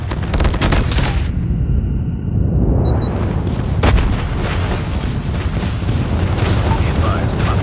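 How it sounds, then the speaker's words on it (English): Heavy booming explosions roll and rumble from an enemy airstrike in Call of Duty Mobile, dense and loud with a sharp blast partway through, over constant battlefield noise. "Enemy airstrike."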